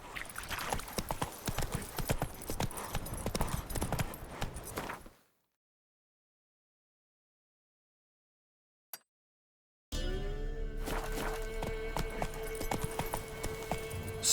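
Hoofbeats of Roach, the horse in The Witcher 3: Wild Hunt, clip-clopping steadily at a run, cutting to silence midway and then resuming with a game soundtrack underneath.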